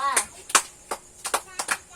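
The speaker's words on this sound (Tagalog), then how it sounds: "Bigyan natin ng 5 palakpak ang pangkat 2." Children in a classroom clap in a few separate bursts, short bright sharp slaps spaced apart, fairly close and moderately loud.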